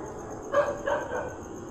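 A couple of muffled dog barks sound at a distance, a short pair and then a softer one, over a steady background hum.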